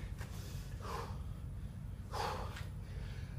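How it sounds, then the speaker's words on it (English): Heavy breathing after exercise, with two or three loud, breathy gasps and exhales rising over a low steady hum, close by and with no speech. "I'm breathing kind of heavy"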